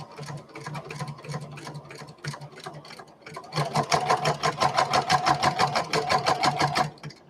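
A sewing machine stitches fabric with a steady mechanical chatter that picks up speed and loudness halfway through, running continuously and close by.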